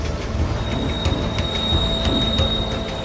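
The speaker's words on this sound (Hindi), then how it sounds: "ये ट्रेन" A freight train loaded with 2,450 tonnes of lead, zinc and silver ore runs on the high Altiplano railway in Peru, giving a steady rumbling roll with faint rhythmic wheel clicks and a thin high whine.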